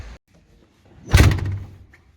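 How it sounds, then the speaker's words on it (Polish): A hotel room door in Chorzów swings shut with a heavy thud and a rattling latch, one close, loud closing sound that fades out, with no talking over it. "Drzwi zamknięte."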